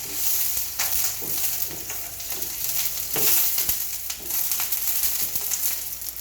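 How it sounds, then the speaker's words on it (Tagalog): Onions sautéing in a pan for chicken adobo, a bright steady sizzle with scraping stirs and occasional sharp clacks of a utensil, close and continuous without talk. "Magisa tayo ng sibuyas."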